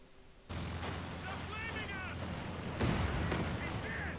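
A Stuka bomb explodes during Company of Heroes 2 gameplay: a loud broadband blast swells in around half a second and a second heavier impact follows near three seconds, with battle noise and talking voices layered over it.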